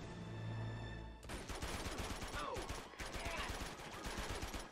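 Rapid bursts of automatic gunfire in the game Uncharted 2: Among Thieves crackle in quick succession, loud and close, following a brief steady tone at the start.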